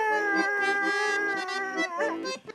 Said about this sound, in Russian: Пес по кличке Патрон, талисман подразделения, разучивает с военнослужащими новогодние песни